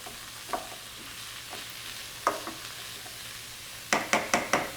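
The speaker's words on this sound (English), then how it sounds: "Stir those around." Baby bella portobello mushrooms, a six-ounce tub, sizzle in a pan for a vegan vegetable stroganoff, with scattered scraping stirs and a quick run of four spoon strokes near the end, no talk.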